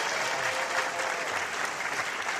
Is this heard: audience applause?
yes